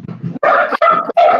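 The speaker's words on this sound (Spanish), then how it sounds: "hace callar al perro." A dog barks loudly and close by, three sharp barks in quick succession after a softer lead-in, with no talk over them.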